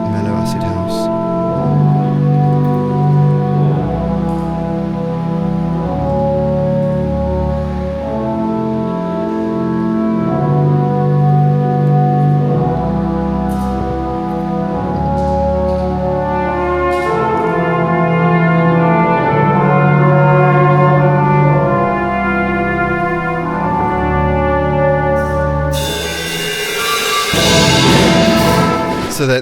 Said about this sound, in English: here is the band for acid house playing a bit of mellow acid house